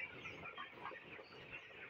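Seventeen-day-old broiler chickens in a poultry shed give a faint, steady, dense murmur of clucks and peeps from the flock, with no voices.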